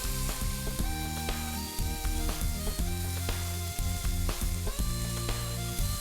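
Food fries in a pan with ghee for a banana-flower and shrimp dal, giving a continuous moderate sizzle with crackles, accompanied by quieter background tones.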